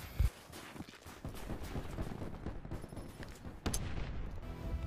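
Weapon fire on a firing range in Call of Duty Black Ops 4, a quiet run of rapid game gunshots with a couple of sharper bursts, heard alone without talk.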